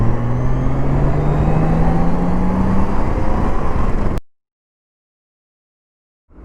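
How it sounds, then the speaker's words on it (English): A 2015 Honda Gold Wing 40th edition motorcycle cruising on the highway, a loud steady engine and road rumble with rising tone that cuts off abruptly into silence before faint sound returns. "So I got this motorcycle on the highway"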